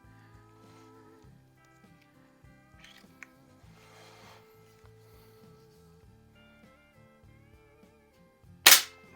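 A suppressed pump air gun fires a single pellet near the end, one sharp, fairly loud crack that stands out over steady tonal background sound.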